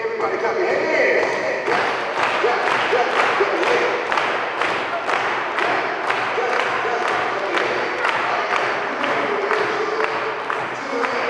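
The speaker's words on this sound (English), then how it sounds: "Everybody clap your hands." An audience at a school family fun night claps hands in a steady rhythmic beat along with music, a crowd sound with voices mixed in.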